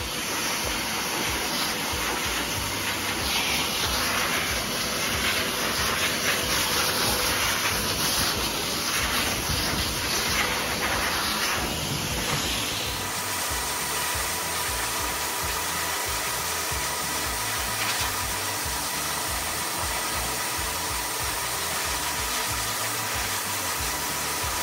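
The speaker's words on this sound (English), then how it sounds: "dryer and just going over him until he's dry." Hair dryer blowing over a Labrador during grooming, a steady loud whooshing hum running the whole time, its tone shifting midway as the airflow changes, with no talking.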